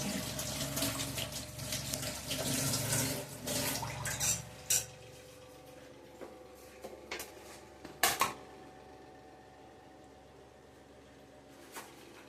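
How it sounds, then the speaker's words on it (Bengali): A kitchen tap runs over coriander leaves being washed for a Bengali cholar dal bora jhal, a steady close splashing rush for several seconds that then stops, leaving a quiet room with a few faint knocks and drips. "ধনেপাতাটা প্রথমে আমি ধুয়ে নেবো।"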